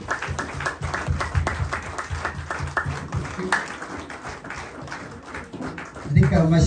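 A church congregation gathered for a group's worship service claps loudly in a steady, rhythmic beat, and a voice speaks briefly at the end.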